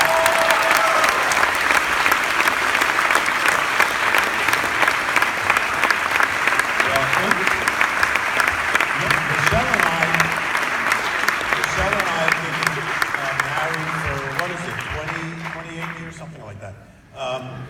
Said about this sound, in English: big round of applause for our guests